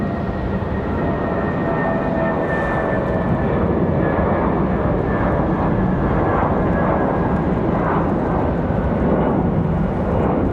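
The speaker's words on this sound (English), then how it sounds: "So we have an E-175 hiding behind the trees over there." An Embraer E-175 jet near Raleigh Durham airport gives off a loud, continuous roar with a slowly falling whine, steady throughout and unbroken by talk.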